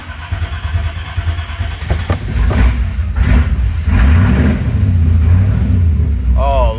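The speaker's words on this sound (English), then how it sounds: "I am going to start this car up for you" A 1965 Corvette convertible with a manual clutch cranks over and fires up, its engine rumbling loud and close, then revving in repeated swells.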